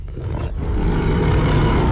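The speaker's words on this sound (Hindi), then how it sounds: "ये तो शेर की आवाज है।" Cartoon lion giving a loud, rough, sustained roar that swells and holds for about two seconds, close and alone without talk.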